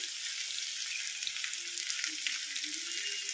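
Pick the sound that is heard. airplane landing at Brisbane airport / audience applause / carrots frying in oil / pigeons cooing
carrots frying in oil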